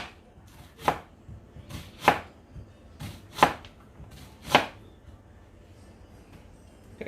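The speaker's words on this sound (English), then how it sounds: "So now we're just going to cut up an onion." A knife chops through an onion on a cutting board in four sharp, close thunks roughly a second apart, with softer taps between and quiet background otherwise.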